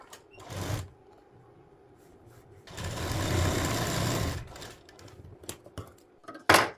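Domestic sewing machine running long basting stitches along a folded blouse hook strip, with two bursts of steady motor whirr, a short one and then a longer run of about a second and a half, between quiet pauses and small handling clicks.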